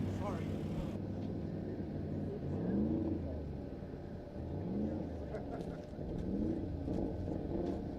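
The Bryant Family Racing car runs the course at Speedweek 2025. Its engine drones at a distance, rising in pitch through repeated revving sweeps with gear changes, and faint voices are heard nearby.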